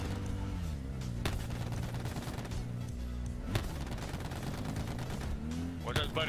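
Rapid gunfire in the shooter game Black Ops 4 over a dense, loud battle bed, with bursts of automatic fire, sharp single cracks and rumbling explosions layered continuously; faint voices may sit beneath the din.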